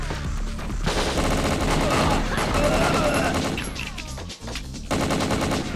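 Rapid automatic gunfire rattles in WinBack: Covert Operations, dense bursts that are nearly continuous for several seconds, with a brief gap before firing resumes, alongside game effects.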